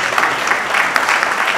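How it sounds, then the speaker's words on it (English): A short burst of steady applause from a crowd at a movie release party, many hands clapping together at close range. "please, a round of applause for these guys"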